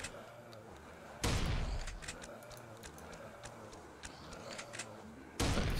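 Shotgun blasts in the game Attack of Mutants, two loud sudden booms a few seconds apart, each leaving a rough sustained roar, with smaller clanks and pops over steady noise between them.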